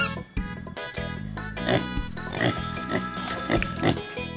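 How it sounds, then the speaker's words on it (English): A toy animal sound of a pig gives a run of rough, repeated oinks and grunts, moderately loud over continuous background music. "Pig."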